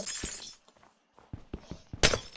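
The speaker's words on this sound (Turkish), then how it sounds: "Cam kırıldı." Glass block shattering in Minecraft survival gameplay: a sharp, bright crash near the end, preceded by a few softer thuds and clicks, loud and close with no talking.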